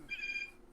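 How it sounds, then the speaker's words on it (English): A mobile phone rings in the background, a short steady electronic tone lasting about a third of a second, faint and fairly distant, with no talk over it. "That's my phone going. That's a fucking phone in the background there."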